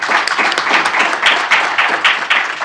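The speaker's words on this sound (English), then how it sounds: "Hand of applause to our colleagues." Audience members at an investment forum session in Kigali applaud their colleagues with brisk, dense clapping that stays loud and continuous throughout.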